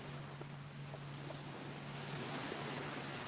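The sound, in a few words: ocean waves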